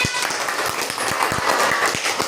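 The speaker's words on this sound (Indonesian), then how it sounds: "Tepuk tangannya dulu." A group of schoolchildren clap their hands together in a classroom, a dense, fast patter of many claps lasting a couple of seconds.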